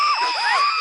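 A woman's shrill scream in a Hindi horror TV serial, one sustained, wavering, piercing cry lasting under a second, loud and close.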